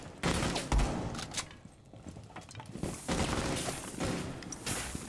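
Rapid bursts of video game gunfire crackle in dense volleys through most of the stretch, loud and close, with a heavy low thump near the start and brief lulls between shots.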